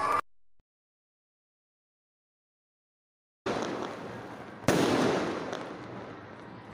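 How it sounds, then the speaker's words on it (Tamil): Diwali firecrackers go off outdoors: after a stretch of silence a rushing burst erupts, then a sharp loud bang with a long rumbling, crackling decay. "ஏமாலிய பட்டாசு தூக்கி போறீங்களா?"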